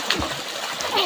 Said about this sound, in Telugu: క్షమా ఈత కొడుతున్నారు